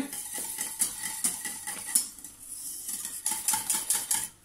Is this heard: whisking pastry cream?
yes